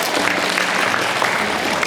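Students clap their hands at an all-school assembly honoring Dr. King, a dense, continuous roar of applause filling a large room, loud and even throughout the short stretch.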